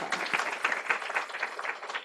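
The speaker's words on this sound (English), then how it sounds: "give you a round of applause in here" Small audience at a pediatric pitch competition gives a short round of applause, a modest cluster of hand claps with individual claps standing out, fairly soft and brief.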